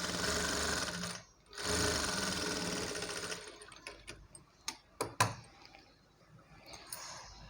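A sewing machine stitches a blouse in two steady runs of fast, even mechanical chatter with a short pause between, followed by sparse ticks and clicks as the work is handled.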